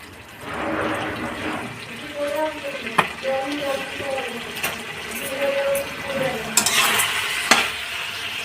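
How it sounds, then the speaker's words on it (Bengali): Mustard oil drizzled into a pan of cooking vegetables such as radish and aubergine brings steady sizzling and frying, with scraping stirring sounds and a few sharp clinks of a utensil against the pan nearby. "একটু তেল ছড়িয়ে দিই।"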